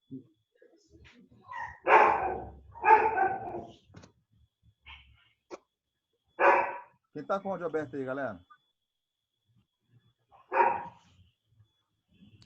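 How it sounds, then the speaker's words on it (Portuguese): An angry dog barks in bursts over an open microphone during an online class, the barks coming in short rough clusters with brief gaps, fairly close, while someone speaks between them. "Tem alguém com cachorro bravo."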